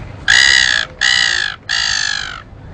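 A person imitates a seagull call with a bird whistle, giving three loud, harsh, nasal squawks of about half a second each, close and alone.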